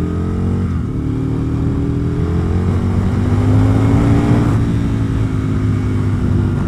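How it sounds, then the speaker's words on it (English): An Aprilia RSV 1000 10th Anniversary Edition motorcycle engine hums and drones under engine braking while riding, a loud continuous rumble with pitch sliding down, then a brief shift before falling again. "The engine braking is not too fierce."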